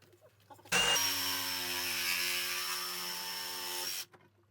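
A power tool saws through the PVC inflow and outflow plumbing of a pool pump. It is one loud, steady, whining cut lasting about three seconds that starts and stops abruptly, with no one talking.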